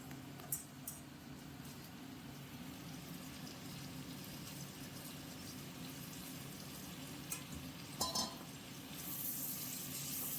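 Onion petals fry and are stirred in a pan of oil while a Chinese-style chilli chicken dish is cooked, a faint, soft sizzle over a low hum with a few light scrapes.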